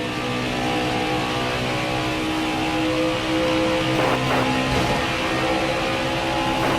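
Several race cars dueling closely for the lead at Michigan, a steady loud engine roar with passing swells as the cars go by.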